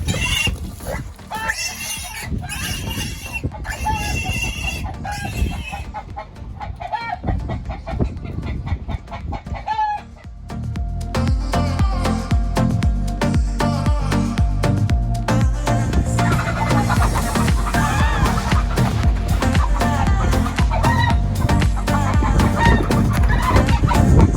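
Chickens in a brooder cluck and chatter continuously at close range, a loud, busy flock sound that grows denser partway through.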